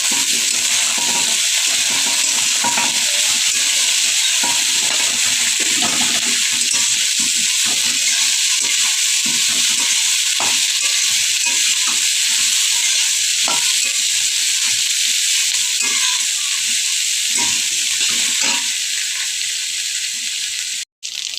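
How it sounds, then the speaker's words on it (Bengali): Vegetables for shukto fry in a pan with a constant bright sizzle, broken by soft scraping and clicking as they are stirred, lasting about twenty seconds before stopping abruptly. "এবার একটু ভেজে নেব"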